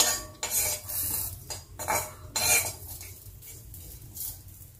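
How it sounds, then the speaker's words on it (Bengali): A spatula scrapes and clinks against a pan as cashews and raisins fry, bursts of stirring spaced out with quieter frying between them, with no talking. "কাজু কিশমিশটাকেও আমি একটু নাড়াচাড়া করে রাখছি।"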